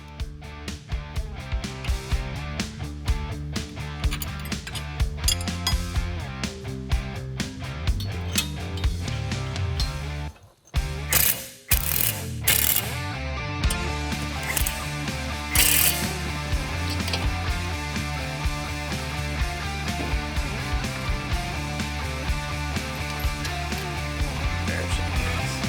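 Ratchet rapidly clicking as it spins a ball joint nut off and on during Jeep steering repair, dense continuous pawl chatter with one brief pause, close and loud.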